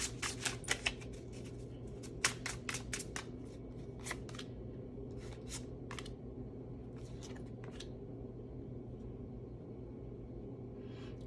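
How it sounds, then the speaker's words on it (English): Tarot cards being shuffled close by, rapid papery riffles and slaps in quick bursts that thin out over time, quiet overall above a low background hum. "I'm going to shuffle these cards."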